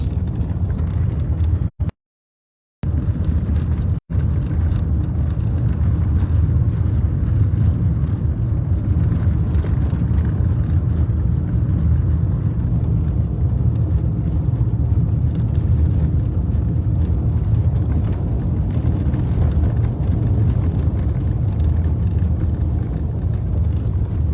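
Car traffic on a flood-damaged road near the Kozcağız dam in Bartın, after flooding, gives a steady low rumble of engines and tyres. It runs continuously and fairly loud, with one brief dropout near the start.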